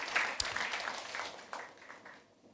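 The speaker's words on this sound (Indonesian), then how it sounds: "Ayo kita tepuk tangan untuk Yesus Kristus Tuhan kita." Church congregation clapping for Jesus during a sermon, a brief, faint, scattered burst of applause that thins out and fades within a couple of seconds.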